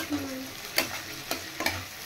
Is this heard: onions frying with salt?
yes